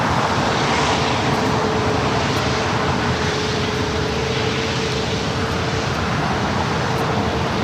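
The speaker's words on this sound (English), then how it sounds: "The Dreamliner now making a left-hand turn onto Bravo, ahead to 25 right for a takeoff back to Tokyo Narita." A Boeing Dreamliner airliner taxiing at LAX toward runway 25 right gives a steady, loud engine roar with a faint sustained whine, unbroken and without voices.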